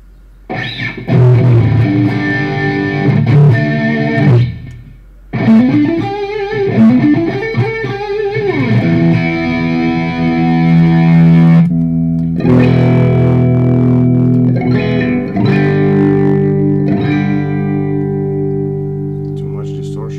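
An electric guitar run through a distortion effect during a live stream: sustained, gritty chords and bending notes ring out loudly, broken by a brief cut, then held tones decay with reverb; no one speaks.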